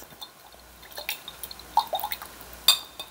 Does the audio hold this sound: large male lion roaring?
no